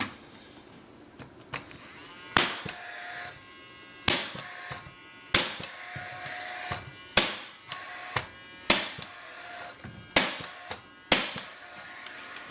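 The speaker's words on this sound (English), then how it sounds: "We have the transition strips cut into place on all 3 doorways. I'm going to attempt to nail them." Sharp hammer strikes nail wood floor transition strips into place at a doorway, about a dozen loud, close impacts in irregular groups, each with a ringing decay and light shuffling between.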